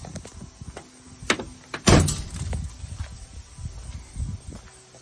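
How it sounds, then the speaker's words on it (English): A Ford Super Duty truck door swings shut with one solid thunk near the middle, surrounded by faint shuffling and handling noises. "Let's close the door"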